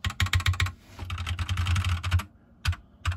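Fingers type on a Magic Refiner MK31 mechanical keyboard fitted with linear switches. Bursts of fast, close, crisp keystrokes are followed by a short pause and a couple of final taps, with no voices.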